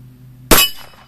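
A single sharp, loud gunshot from a Cimarron 1875 Schofield .45 Colt revolver, an abrupt crack that decays quickly after a quiet lead-in.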